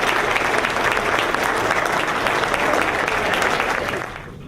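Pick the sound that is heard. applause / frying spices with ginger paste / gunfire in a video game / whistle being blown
applause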